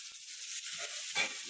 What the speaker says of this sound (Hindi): हरे मटर जब डालेंगे आपको फूटना शुरू हो जाता है